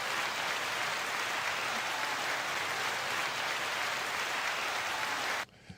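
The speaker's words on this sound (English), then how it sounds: "9-second applause." A thick wash of crowd applause, even and continuous like heavy rain, runs for several seconds before cutting off abruptly near the end, leaving only a faint stray sound.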